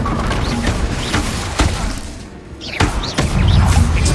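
An explosive spell cast in the video game Hogwarts Legacy brings a run of loud close thumps, cracks and crashing impacts, with a brief lull before heavier rumbling blasts build again, and no speech.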